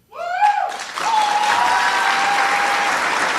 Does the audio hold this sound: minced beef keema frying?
no